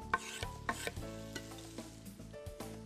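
Chopped bacon pieces sizzle and crackle steadily in a frying pan, with occasional scraping and stirring strokes of a utensil, close and fairly quiet, no voices.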